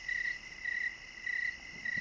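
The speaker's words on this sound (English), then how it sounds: "And, finally, crickets." Crickets chirp in regular bursts, four evenly spaced trills over a soft hiss like an old tape recording.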